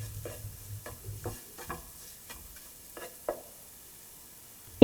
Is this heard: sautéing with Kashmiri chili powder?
yes